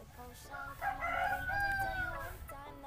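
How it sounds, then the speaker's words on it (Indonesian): Chickens nearby, a rooster crowing a long drawn cock-a-doodle-doo with clucking around it, moderately loud against a quiet background. "Ini kok suara banyak suara ayam nih"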